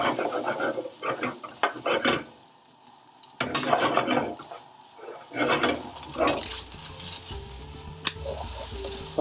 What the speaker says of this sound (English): Put in the ghee. So get that hot. So put your portion of rice in.